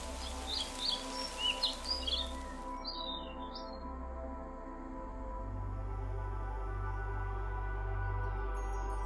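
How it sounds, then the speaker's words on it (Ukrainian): Several birds chirp and trill in short bursts during the first few seconds, fairly faint over a steady low hum that grows stronger as the calls fade, with no voices present. "Звуки дощу чи спів пташок."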